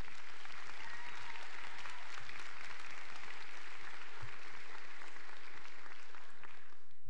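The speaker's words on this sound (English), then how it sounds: "Please give yourselves a round of applause." Sustained audience applause fills a nursing graduation ceremony hall, a dense, steady wash of many hands clapping at once that holds at an even level throughout, with no voices standing out.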